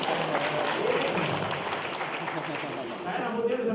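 An audience claps steadily at a ceremony installing a teachers' association branch board, with dense, even applause lasting throughout without a break.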